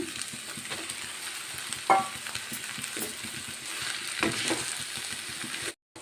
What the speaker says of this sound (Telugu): ఇప్పుడు ఉడికించి చల్లార్చుకున్న రైస్ వేసుకుందాం.